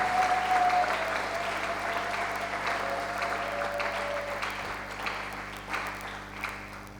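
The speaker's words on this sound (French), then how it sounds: "esengo beta maboko makasi mpona lokumu na nzambe" A church congregation at a Sunday service bursts into sustained, dense applause, loud at first and tapering slightly over several seconds, with a faint sustained tone behind it.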